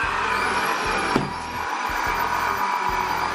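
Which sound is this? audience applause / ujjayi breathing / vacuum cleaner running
vacuum cleaner running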